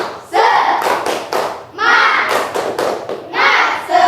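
Children doing a rhythmic spirit clap, loud bursts of hand clapping in a patterned beat mixed with young voices chanting along, close and energetic.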